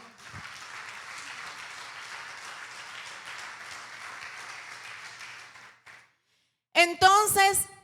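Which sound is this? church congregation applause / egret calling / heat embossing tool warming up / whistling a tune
church congregation applause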